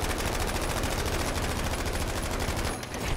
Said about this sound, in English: I'm shooting near enemies.